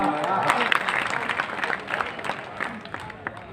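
An audience at a kavi sammelan poetry gathering in Banaras applauds, with dense clapping and crowd noise that is loud at first and then gradually thins out.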